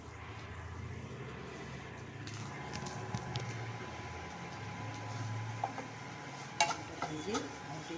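Quiet frying of potatoes in a pan while a breakfast tiffin of chire pulao is made, a low simmering sizzle with occasional clinks and scrapes of a utensil against the pan.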